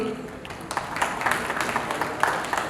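An audience at an Atomberg event in a Marriott hotel breaks into applause, a dense, steady patter of many hands with voices mixed in underneath.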